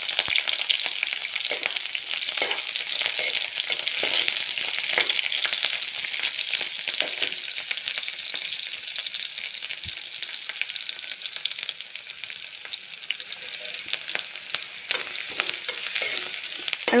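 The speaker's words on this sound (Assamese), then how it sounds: "আৰু এয়া তেল গৰম হৈ গৈছে, ইয়াত এতিয়া দিম মই ৰঙা পিঁয়াজ।" Red onions and green chillies just dropped into hot oil, sizzling loudly and continuously with faint crackles and occasional stirring scrapes throughout, no voices.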